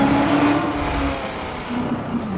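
A powerful car engine runs loud and close in GTA 5, a steady throaty hum with slight swells in pitch, under a speaking voice.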